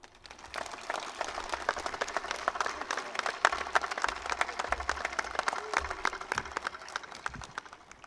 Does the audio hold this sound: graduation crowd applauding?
yes